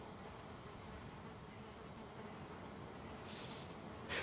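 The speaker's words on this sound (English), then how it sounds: "when I hear the sound of bees" Buzzing of bees around a beehive in the video game Valheim, a steady low drone throughout with a brief brighter hiss near the end and no talking.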